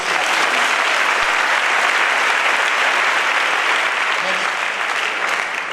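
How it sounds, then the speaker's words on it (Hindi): Loud, sustained applause from an audience at a corporate speech fills the whole stretch, dense steady clapping with no break. "तो आप लोग को जोरदार ताली मिलनी चाहिए"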